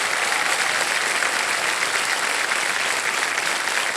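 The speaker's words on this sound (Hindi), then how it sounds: "ताली बजती रहे इनके लिए।" Studio audience on a televised quiz show breaks into sustained applause, a dense, steady wall of clapping that stays loud and even throughout without noticeable talk.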